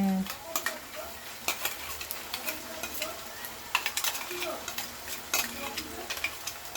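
Spice masala and browned onion being stir-fried in a pan for fish head curry, with frequent clattering spatula scrapes over a continuous sizzle, close by and uneven in rhythm.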